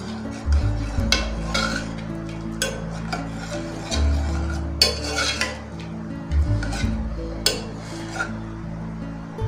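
Cooked lentils mashed with a ladle in a pot make repeated scraping and squelching strokes, close and steady, with metal knocks against the pot sides and a low sizzle beneath.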